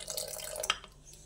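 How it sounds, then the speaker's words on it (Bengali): Water being added to a thin batter for stuffed bean fritters with prawn filling, a soft splashing trickle with a brief drip, close and quiet with no talk. "আর একটু পাতলা হবে, সেই জন্য আরও একটু জল দিয়ে দিচ্ছি।"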